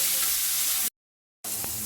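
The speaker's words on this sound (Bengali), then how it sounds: "এরপরে এইভাবে সবকটা মাছকে ভেজে নিই" Rohu fish pieces frying in hot oil give a steady, close sizzle, broken by a brief silent gap before the crackling resumes.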